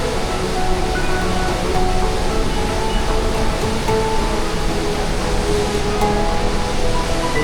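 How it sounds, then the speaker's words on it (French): A jungle waterfall heard from right at its base near the Batad rice terraces in the Philippines, a loud, constant roar of rushing water with no break and no voices. "Juste au pied de la cascade."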